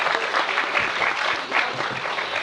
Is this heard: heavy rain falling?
no